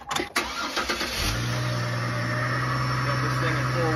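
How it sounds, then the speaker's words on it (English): A four-wheel-drive car raised on jack stands cranks briefly and fires up, then settles into a steady, loud, close running drone. "So what I'm going to do is I'm going to start the car."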